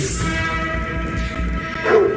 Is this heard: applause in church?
no